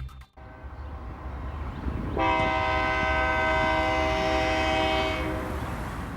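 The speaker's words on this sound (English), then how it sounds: "we find this solid set of GE units in their early BNSF paint, trundling by with a hotshot intermodal headed for the West Coast." A BNSF hotshot intermodal freight led by GE locomotives in early BNSF paint rumbles past on the Fort Scott Subdivision main line, and a loud, steady horn blast sounds for about three seconds over the rumble.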